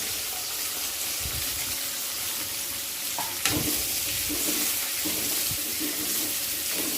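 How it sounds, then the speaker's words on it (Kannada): Cut onions frying in a little oil in a pan, a steady loud sizzle and hiss with a few stirring knocks partway through. "ಒಂದು ಪಾತ್ರಕ್ಕೆ ಬಣ್ಣಲಿಗೆ ಸ್ವಲ್ಪ ಎಣ್ಣೆ ಹಾಕಿದ್ದೀನಿ ಒಂದೆರಡು ಈರುಳ್ಳಿ ಕಟ್ ಮಾಡ್ಕೊಂಡಿದ್ದೀನಿ ಅದನ್ನು ಹಾಕ್ತಾಯಿದ್ದೀನಿ"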